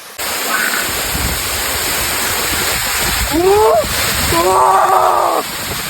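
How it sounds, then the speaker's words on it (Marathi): A waterfall roars in a loud, continuous, close rush of water. People talk over it now and then. "तर मित्रांनो धबधबा बघू शकता तुम्ही एकच नंबर आहे"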